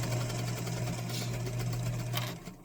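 A sewing machine stitching fabric and lining for a zipper pouch, running continuously with a steady, even motor hum and fast needle rhythm, close and fairly loud, trailing off at the end.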